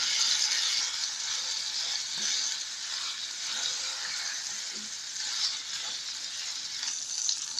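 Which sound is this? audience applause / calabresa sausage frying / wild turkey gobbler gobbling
calabresa sausage frying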